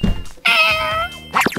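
A free-roaming neighbourhood cat near an apartment building meows twice: one long, drawn-out, clear meow, then a second shorter one a moment later, close and loud.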